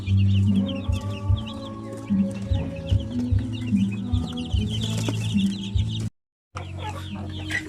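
Shamo Asil chickens cluck and murmur near a brooder cage, a steady close chorus of repeated clucks with occasional louder calls, no talk over them.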